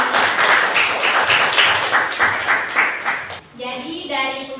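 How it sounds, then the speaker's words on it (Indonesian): Students in an Indonesian high school language class clap for their classmates, a brief, fairly loud burst of mixed hand claps and chatter that fades out after about three seconds, giving way to a teacher's voice. "Beri tepuk tangan untuk teman-teman."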